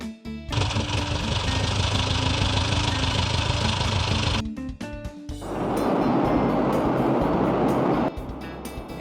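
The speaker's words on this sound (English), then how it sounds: "SUV." A kids' animated SUV engine sound, a steady droning idle for about four seconds, then a brief pause and a second, rougher revving engine burst, loud and alone.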